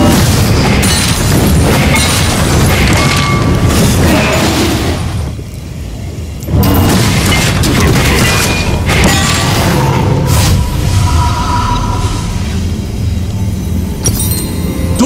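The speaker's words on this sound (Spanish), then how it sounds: "¡Tu torreta ha sido destruida!" A loud booming explosion as a turret is destroyed in League of Legends, heavy and sustained, with clinking, glassy debris and game effects around it.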